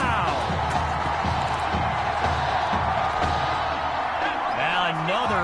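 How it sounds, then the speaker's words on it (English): A stadium crowd roars after a big play in an American football video game, a loud sustained swell of cheering with scattered whoops and thuds, layered under game sounds throughout. "A big-time play that gets a roar from this crowd."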